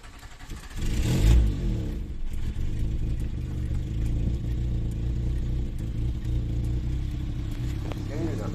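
A Citroën BX petrol engine cranks and catches, surging in a loud rev before settling into a rough, steady idle close by at an outdoor car meet.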